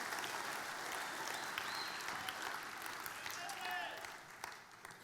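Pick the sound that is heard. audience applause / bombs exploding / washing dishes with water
audience applause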